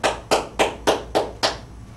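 Recorded hand clapping played back in Audacity: six sharp, evenly spaced claps about a third of a second apart, loud and close, with nothing else heard.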